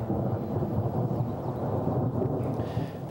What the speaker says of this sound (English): The flash of light and crackle of thunder came rolling across Victoria just after 1 a.m.